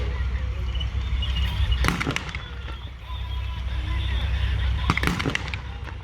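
Infantry fire guns at a Tankfest late World War II battle reenactment: two short volleys of sharp reports cut through steady outdoor rumble, with a voice commentating.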